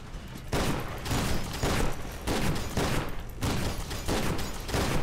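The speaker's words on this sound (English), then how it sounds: "What are they shooting me with?" Sustained enemy gunfire in the shooter game F.E.A.R. 2, rapid bursts of loud fusillade repeating steadily throughout with brief gaps between volleys, no talk.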